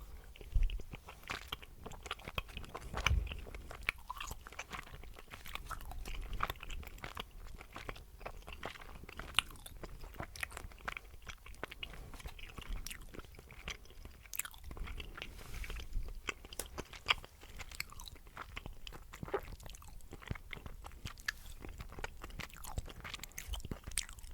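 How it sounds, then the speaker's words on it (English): Close, quiet mouth sounds of a yellow wine gum candy being chewed, with soft sticky crunches and smacks repeating continuously in an intimate ASMR setting. "so I'll have a yellow wine gum and continue"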